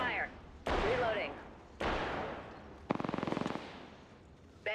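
Gunfire in Apex Legends: separate loud bursts of shots, one a rapid automatic string of about a dozen evenly spaced rounds, broken by short gaps, with brief talk at the start.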